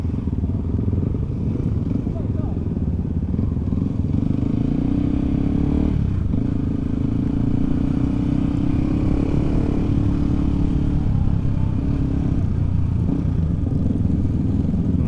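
Several motorcycles ride and rev along a busy road during a Yamaha WR155 group ride in Malang, a steady loud engine drone with rising revs throughout, while a rider talks over it.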